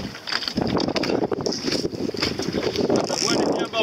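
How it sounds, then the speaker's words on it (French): Steady wind rushes and buffets across the microphone while sailing an Optimist dinghy, with a voice talking over it and a faint hiss throughout. "là il y a un petit peu plus de vent"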